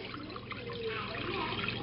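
Milk poured from a container into a Dutch oven on the stove, a soft, steady liquid trickle and splash heard up close with no talking, lasting under two seconds.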